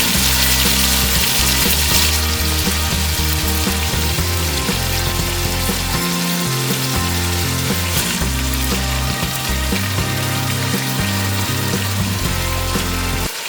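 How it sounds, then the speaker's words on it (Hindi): Softened tomatoes frying in oil down to a paste in a home kitchen, a loud, dense, continuous sizzle up close, with no voices. "अब इसको इतना भूनूंगी कि ऑयल सेपरेट हो जाए और ये एक पेस्ट बन जाए।"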